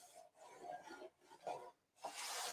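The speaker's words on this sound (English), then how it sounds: "And then I'm just gonna clear wax this now." Clear wax is rubbed over chipping milk paint on a thrifted home decor piece, a soft, steady scraping and rubbing in repeated strokes with brief pauses between.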